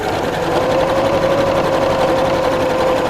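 A sewing machine runs steadily and loudly up close, stitching near the edge of a flap on a zipped fabric pouch in a continuous rapid whir without pause.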